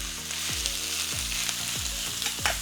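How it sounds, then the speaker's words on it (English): A cup of onions hits hot oil with toasted cumin (jeera) seeds for a Punjabi-style tadka, giving a loud, continuous sizzle and crackle with soft periodic scraping. "There's that sizzle you want."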